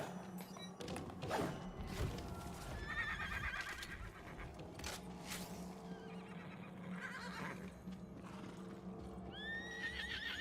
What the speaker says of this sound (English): Alright, but Stallion, calm down